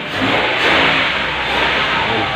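A Mitsubishi Mirage G4 that had refused to start now running after cranking, its engine a loud, close, steady hum with a slight rev swell, no voices over it.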